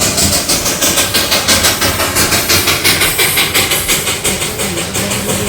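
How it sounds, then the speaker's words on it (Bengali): Darjeeling toy train at Batasia Loop, a loud, close steam engine chuffing in a steady rapid rhythm over a continuous rumbling mechanical roar, with no voices. "টয় ট্রেন দেখছে"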